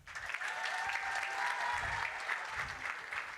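An audience at an awards ceremony claps for an honoree, a steady burst of many hands applauding from a moderate distance.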